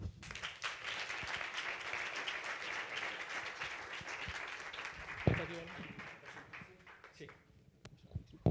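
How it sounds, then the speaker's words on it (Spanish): An audience applauds a guest marketing expert at a science communication talk, sustained even clapping that fades near the end, with a brief voice and some handling noise partway through. "os pido un fuerte aplauso para él"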